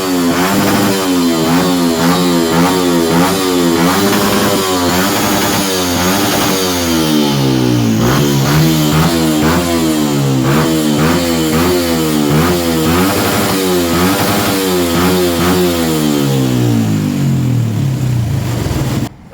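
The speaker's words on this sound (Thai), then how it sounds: "เรามาดูการคันเร่งเป็นไงใส่ๆเลยนะครับ" Motorcycle fitted with an ECU tune and an upgraded exhaust, revved hard and close, its loud engine repeatedly climbing and dropping in pitch as the throttle is blipped, with no talk.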